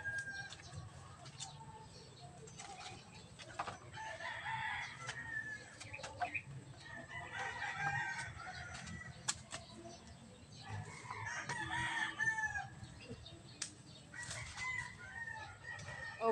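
Backyard chickens crow and cluck several times at a moderate distance, with repeated drawn-out crows rising above faint ambient noise.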